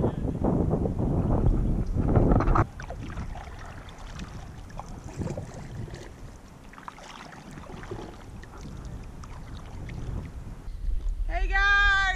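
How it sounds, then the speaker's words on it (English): Paddle strokes of a canoe moving through Okefenokee Swamp, with soft splashes and wind noise, under someone talking. "just paddling away, man."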